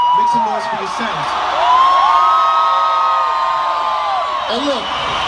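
A large outdoor concert crowd at Bellahouston Park in Glasgow cheers, whoops and yells steadily and loudly throughout, with a performer's voice over the PA at the start.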